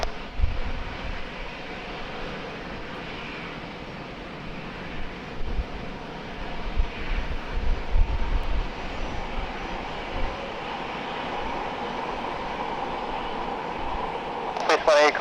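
Airliner at San Diego airport, likely a Boeing 737 departing from runway 27, gives a steady, broad jet engine roar throughout, swelling in the middle. Air traffic control radio talk runs over it.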